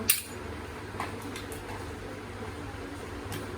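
A small child bangs a spoon, giving a few sparse metallic clinks and taps, the first strongest, over a quiet room hum.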